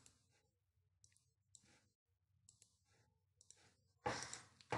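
A computer mouse clicks several times at close range, giving soft, sparse taps against a quiet room, followed by a louder burst of noise at the end.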